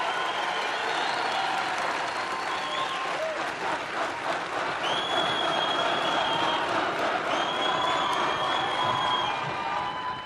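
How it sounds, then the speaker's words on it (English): Large political rally crowd applauds and cheers in a big arena, a loud sustained roar of clapping and whoops with occasional shouted voices rising above it, continuous from start to finish. "It's a very energetic crowd"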